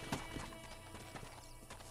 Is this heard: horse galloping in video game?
yes